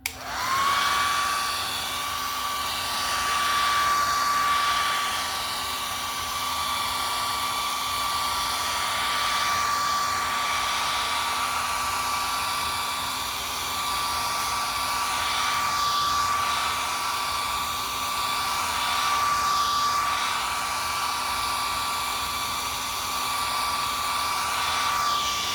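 A hair dryer blows steadily for the whole stretch, drying acrylic paint on an 11x14 canvas: a loud, continuous whirring roar with a high whine and a low hum, alone with no talk.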